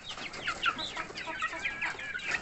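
Chickens, including jungle fowl chicks and Polish chickens, cluck and chirp continuously, several birds calling over one another, close by with no talking.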